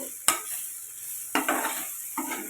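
Tindora fry with dry coconut garlic powder stirred in a pan, three distinct scraping strokes at a steady pace over a soft, continuous sizzle, close and clear with no talking.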